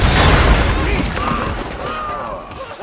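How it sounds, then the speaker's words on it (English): Dynamite explodes in Red Dead Redemption 2, a loud close boom with a heavy low rumble that decays over about three seconds, followed by lingering debris and ambient game sound. "There's nothing like a good explosion"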